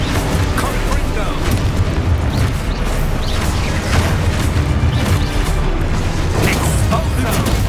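A Confringo fire spell explodes in the Hogwarts Legacy video game, a dense, loud booming blast that fills the whole stretch with continuous rumbling bursts and crackle.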